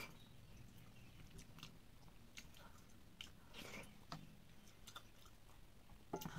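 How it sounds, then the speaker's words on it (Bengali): Vegetarian khichdi is eaten close to the mic, with soft, faint, irregular chewing and small crunches and clicks repeating over several seconds with no talk. "চলুন খিচুড়ি খেয়ে নিই"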